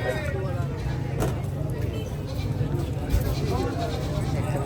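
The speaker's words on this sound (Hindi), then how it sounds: "सिंधी बकरा है।" A Sindhi goat bleating at a busy Lahore livestock market, the calls rising briefly above a steady crowd hubbub and background chatter, with a low constant rumble of traffic or engines.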